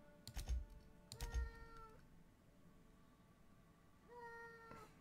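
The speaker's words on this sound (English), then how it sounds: "Meow." A real cat meows twice in quick succession, then again a few seconds later, each call rising and clear, while computer keys click faintly in a quiet room.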